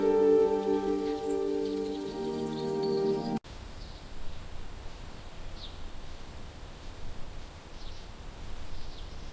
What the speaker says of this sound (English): Rain already? Just my luck.